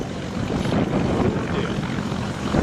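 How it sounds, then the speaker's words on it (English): Airplane engine roaring steadily during a landing at an air show in Germany, close and loud for the whole stretch with a broad, continuous propeller-like drone and no speech. "This plane struck its wing while landing at an air show in Germany"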